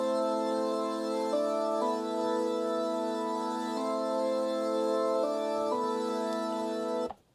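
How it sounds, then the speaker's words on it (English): A soft sustained synth pad plays slow, shifting chords, smooth and steady, then cuts off abruptly near the end. "So the main instruments would be the synth, which is this."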